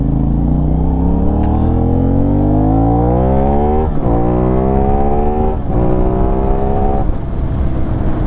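A CFMOTO 450 NK parallel-twin motorcycle engine revs loud and close, pitch sweeping upward through three rising pulls with brief dips between, steady throughout with no talk.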